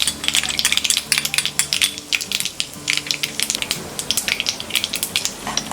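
Mustard seeds, cumin and a pinch of asafoetida dropped into hot oil, crackling and popping in quick irregular bursts over a low background hum, close and fairly loud.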